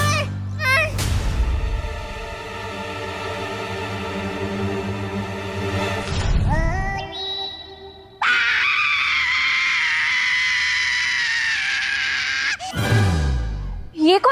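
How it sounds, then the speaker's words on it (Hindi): A person screams in a children's fantasy TV show. A long, loud, wavering cry is followed by a sustained high-pitched shriek, with shorter vocal bursts at the start and end. "ये कौन चीखा?"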